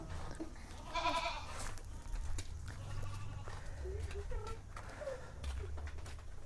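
Goats on a small fattening farm fed cassava pulp, bleating intermittently at moderate distance against steady barn background noise, with a faint voice now and then.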